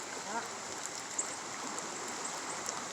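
Creek running high after flash flooding in Augusta, Georgia, gives a continuous rushing wash of moving water at moderate distance, with a faint voice briefly audible beneath it.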